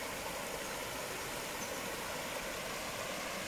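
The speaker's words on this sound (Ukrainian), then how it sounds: "Водопадик." A small waterfall in a rocky stream in Divoká Šárka park in Prague, a steady broadband rushing of falling water heard close and continuous, with no talk over it.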